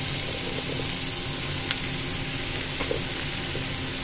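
Potatoes going into a pan of hot oil while bitter gourd (karela) cooks Bengali style, a steady bright sizzle and crackle with a few sharp pops, close and continuous.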